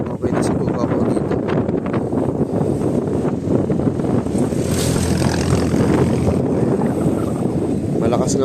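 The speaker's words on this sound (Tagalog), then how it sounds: "Malakas nga lang hangin, tingnan nyo." Strong wind buffets the microphone beside Kaliraya Lake, a loud, ragged rumble that swells and gusts continuously for several seconds.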